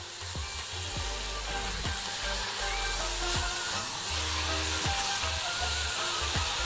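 Chicken pieces frying in an oily pan while being stirred: steady loud sizzling and hissing, broken by repeated scraping strokes of a spoon through the pan, with no talking.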